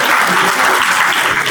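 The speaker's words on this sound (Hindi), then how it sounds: "तालियां बजाओ भाई" Audience applause at a student honour award ceremony in Rajound, Kaithal, a brief burst of dense, loud clapping from a crowd, sustained evenly throughout.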